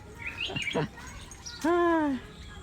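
A pet songbird on sale at a Buddhist Lent bird market chirps a few quick notes, then gives a clear, loud, ringing whistle with rich overtones, heard close by while people talk faintly in the background.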